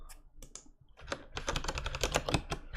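Computer keyboard typing in a few sparse taps that build into a fast, steady run of close, crisp keystrokes, no voices.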